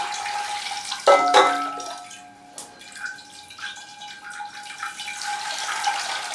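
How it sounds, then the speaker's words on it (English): Water is poured onto a potted plant on an indoor shelf, with a short splash early on followed by softer trickling and dripping. "So we'll give that a good water."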